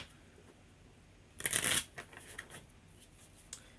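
Tarot cards shuffled in one quick, crisp burst of riffling, fairly close, followed by a few soft card taps and slides against a quiet room background.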